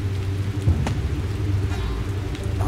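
Steady rain pours down in the horror video game Siren, a dense continuous hiss with low rumbling underneath and one brief louder crack, no voices.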